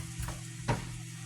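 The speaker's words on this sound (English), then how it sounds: "So we're going to put in those onions." Chopped onions dropped into a hot pot for Oaxacan yellow mole, a brief soft hiss and then a sharper burst of sizzling with a stir, close by and without speech.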